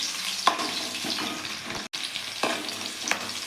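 Small chopped onion sizzling in hot oil for a tempering while fish curry cooks, a steady close frying hiss with a few faint stirring clinks and no talk.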